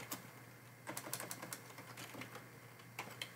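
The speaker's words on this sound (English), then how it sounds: "I'm having so much trouble typing this time." Typing on a computer keyboard while coding, soft irregular clusters of key clicks, some in quick bursts and some isolated, faint and close over a low steady hum, with no talking.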